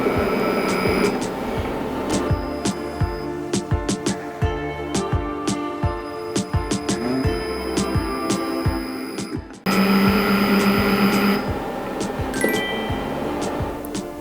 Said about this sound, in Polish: Teraz nam robot wyrobi ciasto.